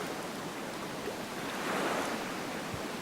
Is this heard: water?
yes